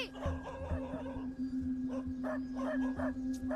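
A street dog in a Tamil film scene gives a run of short, yappy barks and yips, faint and somewhat distant, in a quick irregular rhythm.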